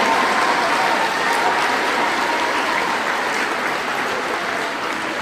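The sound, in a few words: audience applause for teachers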